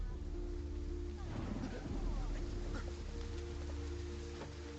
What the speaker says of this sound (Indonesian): Hujan turun sangat deras.